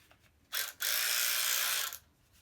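A cheap cordless ratchet driver from Temu whirs in two short bursts, a brief blip followed by a steady high-pitched motor run of just over a second, close up in a quiet room.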